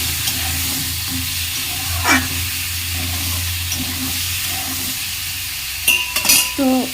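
Tomato, onion, kohlrabi and potato fry in a pan with a low, steady sizzle; a couple of stirring scrapes cut in, and near the end a few sharper clinks of a utensil against the pan.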